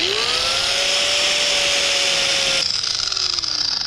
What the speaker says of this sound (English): so I've got a sander wheel